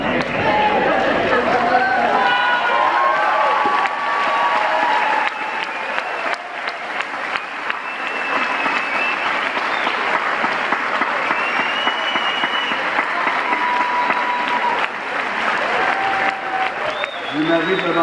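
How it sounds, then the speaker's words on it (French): Sustained applause from a large crowd honouring graduates at an end-of-studies ceremony, dense steady clapping for the full stretch with some voices and cheers mixed in. "vous allez vous demander une bonne main d'applaudissement"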